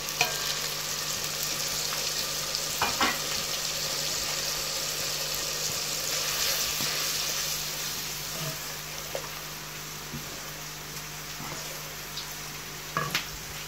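Spices frying in a pan for village-style chicken handi, a steady, even sizzle with a faint low hum underneath and a few brief clinks of stirring.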